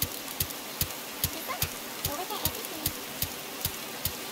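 Steady rain falls in the survival video game Sapiens, a soft continuous patter under evenly spaced thudding game sounds that repeat through the scene.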